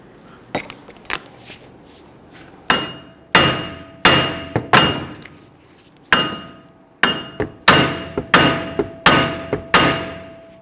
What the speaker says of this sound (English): I'm going to use my sledgehammer to try and knock this hub loose a little bit.